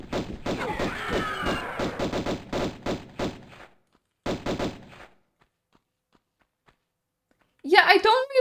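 Rapid bursts of gunfire from the video game Tomb Raider I ring out in quick repeated shots with short pauses, then fall silent before a final loud burst, and a person talks over the shooting.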